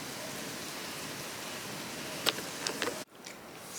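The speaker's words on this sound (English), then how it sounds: "That's an awful lot of rain, but it makes quite nice ambient sound for reading." Heavy rain pours down outside as a dense, steady hiss, with a few brief clicks and knocks near the end before the wash of rain briefly drops and returns.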